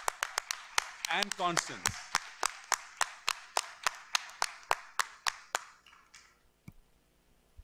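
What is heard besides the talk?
applause for meeting organisers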